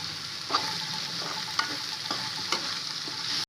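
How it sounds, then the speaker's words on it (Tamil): Beans, cauliflower and carrot sauté in a hot pan with a steady hiss of sizzling oil, punctuated by a few scraping spatula strokes spaced about half a second to a second apart. "பீன்ஸு காலிஃப்ளவர் கேரட்டு எடுத்துக்கலாம் நல்லா வதக்கிக்கலாம்"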